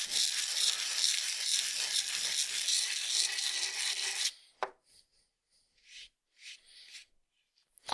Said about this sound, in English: if you see stuff like that, then go ahead and just do a little bit more sanding